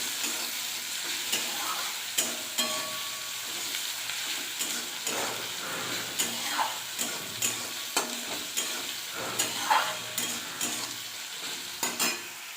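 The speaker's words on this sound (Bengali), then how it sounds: "ভাজা হয়ে গেছে পেঁয়াজ কাঁচা লঙ্কা, আমি তরকারিটা দিয়ে দেব।" Onion paste and green chilies frying in a pan, a continuous close sizzle broken by regular scraping stir strokes roughly every second, with no voices.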